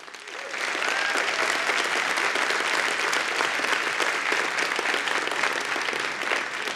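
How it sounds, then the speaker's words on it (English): A large audience at a startup demo day applauds steadily, a dense sustained clatter of many hands clapping that starts abruptly and holds at full strength throughout. "I think all of 11 deserve a huge round of applause."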